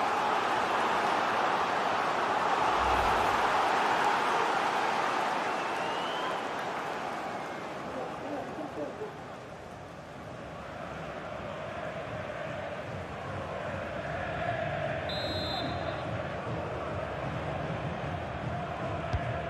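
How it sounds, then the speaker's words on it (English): Simulated stadium crowd from EA Sports FC 24 during a UEFA Europa Conference League group-stage match, a loud steady roar and murmur that swells early, dips midway and builds again, with a brief whistle-like tone near the end. "the crowd are looking to really give the players a boost"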